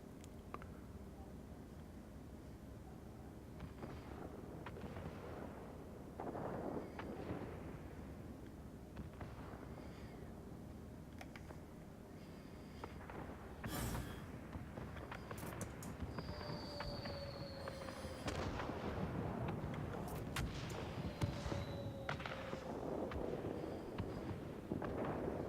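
Bombs detonating in a B-17G bomber flight simulation game: a rumbling series of scattered explosions and booms over constant engine drone, steady and dense throughout, with no talking.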